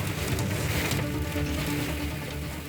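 A heavy hail-laden thunderstorm drums steadily on a car during driving, a dense, loud, unbroken roar with no thunder clap standing out.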